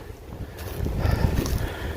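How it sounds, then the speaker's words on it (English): Wind gusting through woodland on a blustery day, a steady low roar that swells and buffets the microphone, growing louder and more rumbling through the second half with no voices. "It's a windy day."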